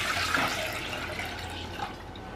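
Full cream milk, three cups or about 750 ml, pouring steadily into a cooking pot for basundi, a continuous watery splashing stream running near and fairly loud from start to end.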